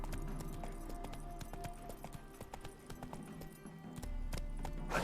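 A horse gallops in the video game Witcher 3, its hooves beating a steady, continuous clip-clop rhythm close by from start to finish, with a low rumble underneath.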